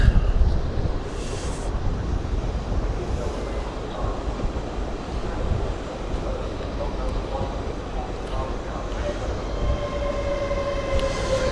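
At York station on the East Coast Main Line, an LNER train bound for Newcastle rumbles past, loud and close, with wheel and wind noise and a rising electric whine near the end.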